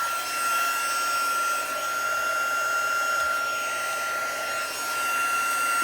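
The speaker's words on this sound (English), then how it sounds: "And bring the heat gun back in," Heat tool blowing steadily over embossing powder on a stamped thank-you card, a constant close whooshing hiss with a faint high whine running through it, unbroken for several seconds.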